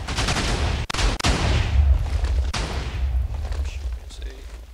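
Shots from a 255 gametick nuker cannon in a video game, several sharp blasts in quick succession over a continuous loud rumbling barrage, with brief dips in the din between firings.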